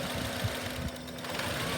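A car engine idles roughly and labors as if about to stall, a steady low rumble with uneven knocking pulses, close and fairly loud with no talk.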